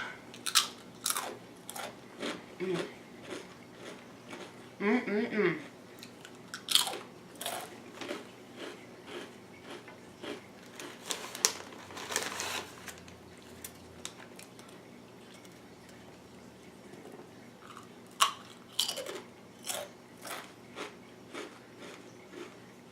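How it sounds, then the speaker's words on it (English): Crunchy potato chips are bitten and chewed close to the mic during a Subway meal, giving scattered sharp crunches and softer chewing clicks spread over about twenty seconds with quiet gaps. "I love it when you get like a really good crunch"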